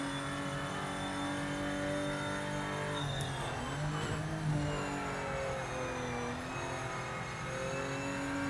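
Race car in Project Motor Racing drifting, a steady loud engine drone with shifting pitch and a brief swell of revs midway, alone without talk.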